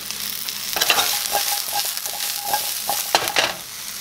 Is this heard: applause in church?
no